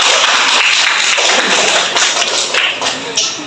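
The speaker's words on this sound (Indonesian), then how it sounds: "Kita beri tepuk tangan." Dense, steady clapping from a church congregation, loud and close, continuing throughout with a few sharper taps standing out.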